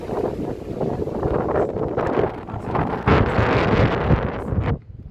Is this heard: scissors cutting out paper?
no